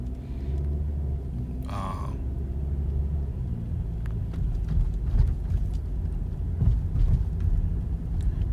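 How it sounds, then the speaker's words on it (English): A car's engine rumbles steadily from inside the cabin while driving, a continuous low drone with a brief higher mechanical whine partway through and a few faint clicks. "so like I'm driving"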